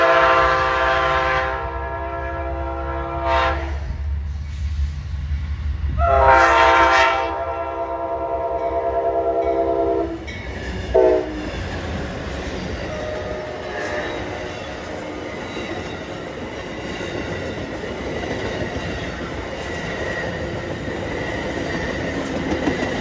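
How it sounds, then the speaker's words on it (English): Amtrak train pu97, led by Phase 5 and Phase 6 locomotives and carrying an extra diner at the rear, sounds loud repeated horn blasts while approaching, then roars past close by with steady rumbling and clattering wheels. "me and Ben would see is Amtrak pu97, and the only reason why we went to go see this is because we heard it had a Phase 5 and a Phase 6 on it"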